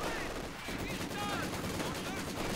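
Machine gun fire in the Company of Heroes game, dense rapid bursts of gunfire over a loud battle din, with a voice talking over it.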